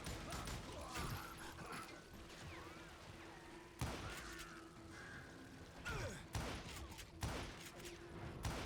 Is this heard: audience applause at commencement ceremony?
no